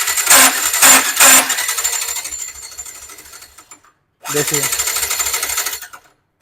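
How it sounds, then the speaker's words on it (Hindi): Self starter cranking the engine of a Yamaha R15 V4 motorcycle with a starter sound problem, three short loud whirring bursts followed by a longer rattling crank, close up, with someone speaking briefly. "अब चलिए हम इंजन को थोड़ा मूव करके आप लोगों को दिखला साउंड कहाँ से आ रहा है"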